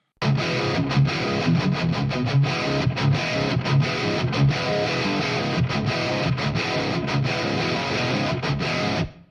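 Distorted, double-tracked rhythm guitars in a heavy rock mix for a song, panned hard left and right, churn out thick, dense chugging riffs with brief stops, and no voices.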